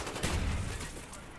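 Gunfire in a Call of Duty: Black Ops gunfight, a quick burst of rapid shots that swells and then trails off into a muffled rumble, fairly faint.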